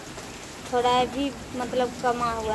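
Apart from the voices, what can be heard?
heavy rain falling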